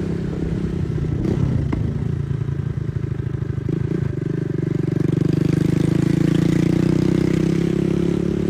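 A motorcycle engine sputters and clatters as it is kick-started, then settles into a steady, close, rumbling idle.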